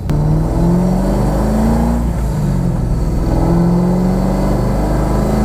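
A C5 Z06 Corvette under a project build pulls hard in second gear at wide open throttle, its engine note climbing steadily in pitch from inside the car, loud and droning, with a brief dip as the revs settle before rising again.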